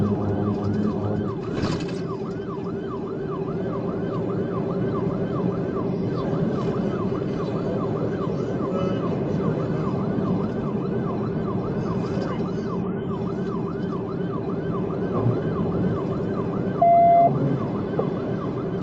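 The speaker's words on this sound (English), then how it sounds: "Even though its siren is on, they're still taking precautions and slowing down." A police patrol car's wailing siren rises and falls steadily throughout, loud and continuous over rumbling traffic noise, with a brief beep near the end.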